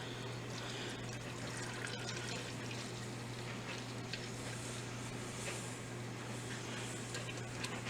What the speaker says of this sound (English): Now I'm going to add this entire container.